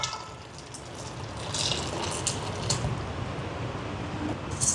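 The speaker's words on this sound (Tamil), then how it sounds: "இனி இதில் நாங்கள் காய்ச்சி வச்சுருக்கிற சர்க்கரை தண்ணியை சேர்ப்போம்." Boiled sugar syrup is poured into roasted coconut and sesame for a kozhukattai filling, making a steady, close liquid gushing and splashing sound that runs throughout.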